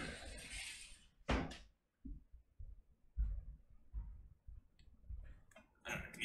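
Several doors are shut nearby, giving dull thumps and clunks spaced through a quiet room, with a brief rush of handling noise and faint shuffling between them.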